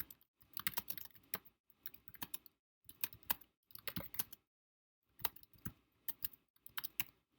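Computer keyboard typing in quick close clatters, grouped into several short bursts of keystrokes separated by brief pauses, quiet and with no talk.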